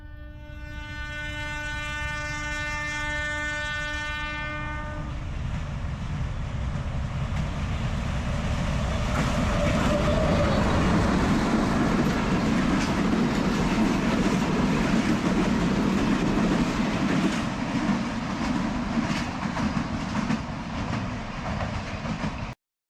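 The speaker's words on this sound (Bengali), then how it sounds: "ওই যে ট্রেন আসতেছে, আপনাদেরকে দেখাই ট্রেনটা।" A very small train pulls into a disused rural station at Gaighat, opening with a sustained horn, then the loud, steady rumble and clatter of the cars passing close by, with no voices.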